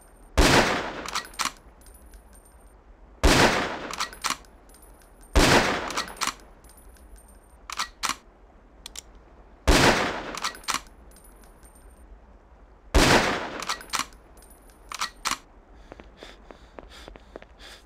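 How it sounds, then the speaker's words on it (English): Sniper rifle fire on a Ghost Recon training range aimed at long-range targets, five or six loud sharp shots spaced a few seconds apart, each followed by the metallic clinks and clacks of the bolt cycling. "The sniper rifle is equipped with a scope for long range shots."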